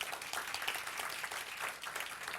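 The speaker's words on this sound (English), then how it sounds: "give them a round of applause" An audience at a live training seminar on learning techniques claps in a steady round of applause, dense and even throughout, with no voices over it.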